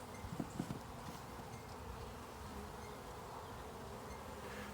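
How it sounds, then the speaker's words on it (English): Honey bees buzzing steadily around hive frames, a close, continuous drone with a few brief clicks and knocks early on. "There was only 2 frames of bees that I put in here, but I sure like these bees."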